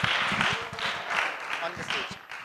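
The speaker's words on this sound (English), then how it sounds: "Let's welcome them with a round of applause" A small audience at a Mahashivratri festival gathering claps in welcome, scattered, uneven hand claps close by, mixed under ongoing talk.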